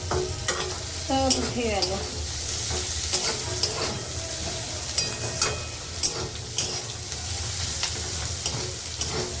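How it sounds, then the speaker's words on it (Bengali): Crushed garlic and tomato fry in hot oil with a constant sizzle, while a spatula repeatedly clacks and scrapes against the pan; someone speaks briefly over the cooking. "তেলে দিয়েছি শুধু কাঁদা রসুন আর টমেটো"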